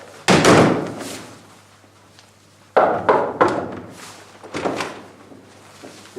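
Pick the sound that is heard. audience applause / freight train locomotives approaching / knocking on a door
knocking on a door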